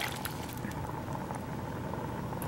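Water pours steadily into a soup pot over bouillon, a continuous close rushing and bubbling wash with no pauses and no speech.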